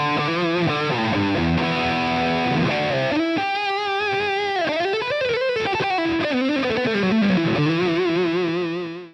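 A high-gain amp model on a Line 6 Helix produces a heavy, distorted electric guitar tone: sustained saturated chords, then bending, wavering lead notes played loud and alone without talk.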